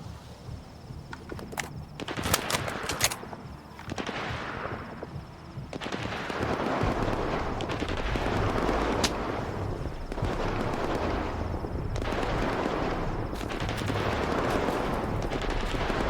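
A group of bandits firing in S.T.A.L.K.E.R. 2, with scattered sharp shots at first that build into heavy, continuous gunfire, layered and rolling in waves against outdoor game ambience.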